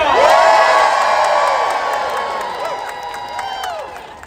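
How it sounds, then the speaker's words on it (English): A large crowd at an anti-Elon Musk protest outside the Consumer Financial Protection Bureau in Washington, DC, cheering loudly with high whoops and shouts that ring out strongly at first and then taper off gradually. "I want a big cheer at the end"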